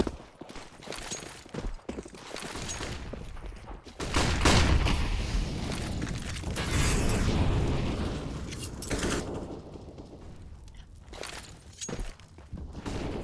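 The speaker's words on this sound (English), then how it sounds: "the flashbang 4 is very interesting to see there" Flashbang grenade going off in Counter-Strike on Dust 2, a sudden burst at about four seconds followed by a sustained loud ringing wash, with scattered game gunfire and effects around it.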